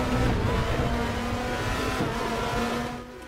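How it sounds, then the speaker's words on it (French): In the RaceRoom racing game, a race car's engine drones loud and continuous, with a harsh, strained drivetrain whine running beneath, easing off slightly at the end. "Je suis en train de faire vivre un calvaire à la boîte de vitesse."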